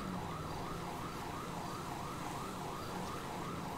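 Police car siren in GTA 5, a continuous rising and falling wail heard at a moderate distance over a steady background rumble, with no talking.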